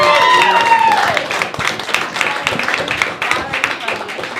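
Open mic stand-up comedy crowd applauding a comic, a broad dense wash of clapping that starts loud and tapers off somewhat, with a host speaking over it.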